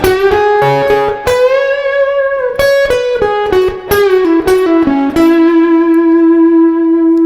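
Electric guitar plays a lick from Pearl Jam's Yellow Ledbetter solo alone: quick picked notes and bends settling onto a long sustained note with vibrato, clear and close.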